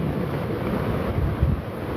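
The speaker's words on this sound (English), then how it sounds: "It's pouring." Heavy rain pouring onto a tarp shelter outdoors, heard as a dense, continuous roar with low rumbling wind buffeting at the microphone and no talking.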